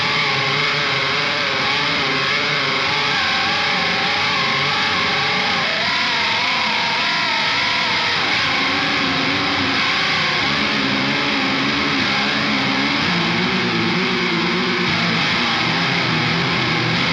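Heavily distorted, effects-laden electric guitar produces a loud, saturated, wavering wall of noise with warbling, alien-like pitch swoops that continue unbroken throughout.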